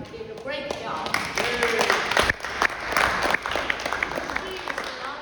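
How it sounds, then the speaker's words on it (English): Scattered applause at a region and zone chair training session, with distinct individual claps and thumps over a background of talking. "please give a round of applause"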